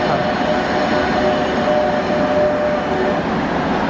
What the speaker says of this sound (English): My next tram is the 16, which is the tram with the DC with the really high pulsing frequency.